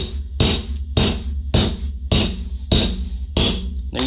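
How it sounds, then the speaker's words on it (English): A hammer drives staples into a carpet stair runner on a staircase, seven sharp, evenly spaced blows about half a second apart, close and loud with no talking. "then we'll take our hammer and really sink those staples into place"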